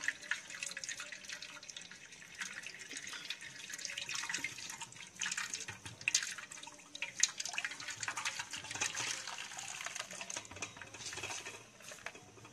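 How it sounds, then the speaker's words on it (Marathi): Extracted coconut milk is poured and squeezed through cloth for a Diwali sweet, giving a faint, continuous trickling patter of liquid with small irregular splashes close by, with no talk. "याप्रमाणे खोबऱ्याचा रस काढून घ्यायचा आहे, म्हणजे खोबऱ्याचं दूध काढून घ्यायचं आहे"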